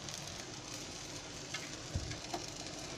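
Bread toasting in a hot pan as the gas flame is turned up, a steady close sizzle and frying crackle with a few soft scrape or stir knocks, no talk.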